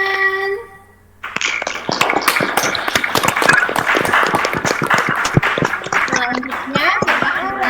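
Classmates in an Indonesian school classroom clap together after a presenter finishes answering, a dense burst of many hands after a brief pause, with voices talking over the clapping throughout.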